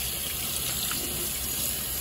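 Water runs steadily from a tap in a continuous hissing gush, close by, with no talking.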